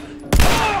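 Gunfire in The Last of Us, a single loud, sharp gunshot blast that cuts in abruptly from near silence and rings out with a sustained reverberant tail, close and alone without talk.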